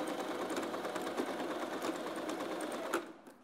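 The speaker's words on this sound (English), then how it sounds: "I'm just slightly pulling my fabric to the side as I sew, so that we're just creating a big zigzag over the hole." A sewing machine runs steadily, stitching a wide zigzag over a patch covering a hole in fabric, its rapid whirring needle close and continuous before slowing and stopping near the end.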